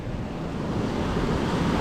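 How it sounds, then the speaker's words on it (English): Ocean surf and gusting wind at Sunny Isles Beach during a tropical storm, a constant roaring wash of waves with heavy wind buffeting on the microphone, steady and loud without pause. "The sea is building now."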